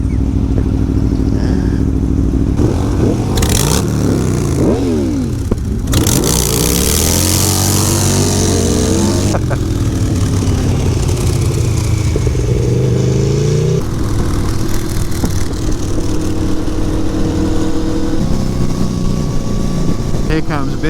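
Motorcycles, among them an Aprilia Tuono V4 and a scooter, roar past one after another, engines rising and falling in pitch as they approach and recede, loud under wind noise and a voice talking.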